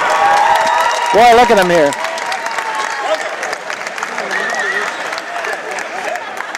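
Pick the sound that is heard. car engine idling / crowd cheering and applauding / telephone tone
crowd cheering and applauding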